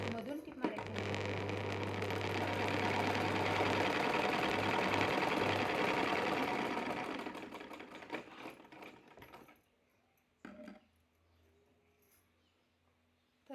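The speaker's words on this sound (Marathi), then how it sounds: "आता याला टिप मारून मधून टिप मारायची" A sewing machine stitches a blouse hook-and-eye strip in a steady, loud whirring run of about nine seconds, then slows and stops, followed by quieter handling noises.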